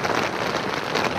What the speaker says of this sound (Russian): Прикрывать не буду, потому что ветер и дождь встречные.